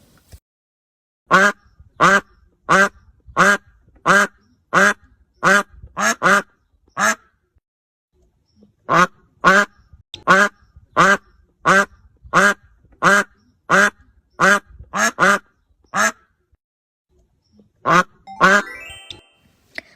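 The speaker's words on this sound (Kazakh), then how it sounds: "Бұл үйрек. Су бетінде жүзіп жүріп, кря-кря дейді." A duck quacking loudly and close, a steady series of single harsh quacks spaced about half a second apart, broken by two brief pauses and ending in a quicker flurry.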